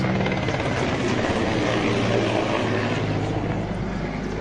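A helicopter thrums steadily nearby in war footage from Ukraine, its rotor beating in a loud continuous chop with a low engine drone underneath.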